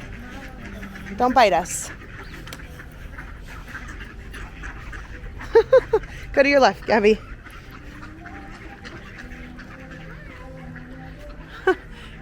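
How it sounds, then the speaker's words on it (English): Ducks quack in short bursts, a few near the start and a cluster midway, while people talk nearby, near the Port of San Diego. "We're going through a sea of ducks."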